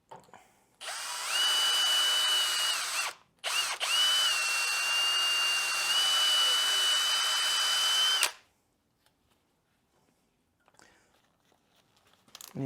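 A power-driven wire brush spinning through the threaded caliper carrier bolt holes on a Renault Scenic 3 front brake, a loud steady whirring grind for several seconds, a short break, then another long run before cutting off to near silence.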